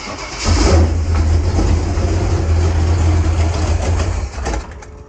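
An old high school truck with a carburetor that has no choke cranks and turns over cold, giving a loud, steady low mechanical drone that runs for several seconds before tapering off near the end.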